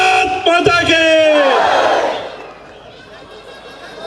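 A crowd at a BJP rally in Malur shouts a loud collective chant for about two seconds, then trails off into quieter crowd murmur and background noise.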